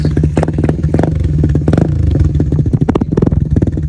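A Raider motorcycle fitted with a KOU exhaust revs in loud, close, choppy blips over a rough idle, with rattly clatter between the throttle bursts.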